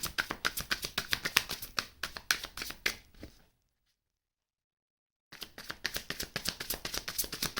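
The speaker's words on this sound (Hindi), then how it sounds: "तो कार्ड शफल करते हैं।" Tarot cards riffled and shuffled by hand in quick rhythmic bursts of crisp flutters, close and clear, stopping for a silent pause of about two seconds before the shuffling resumes.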